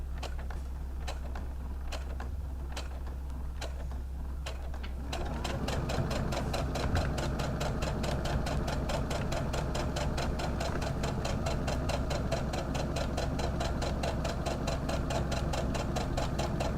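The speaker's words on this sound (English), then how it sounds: "And again, I'm back stitching." A sewing machine hums at low speed with slow ticking stitches, then picks up into a fast, steady rattling run while back stitching, close and continuous.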